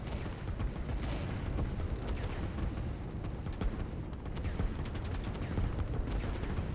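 Dense, continuous barrage of artillery and gunfire from a Line War real-time strategy match, with shots and blasts overlapping steadily throughout at a sustained loud level and no talking.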